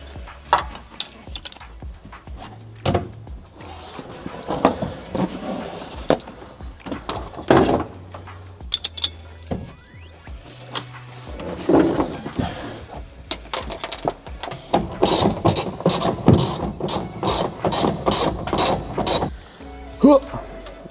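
Intermittent ratchet clicks drive a screw back into the interior trim of an EK Honda Civic, with rapid clicking bursts toward the end among clunks and rustling while people talk.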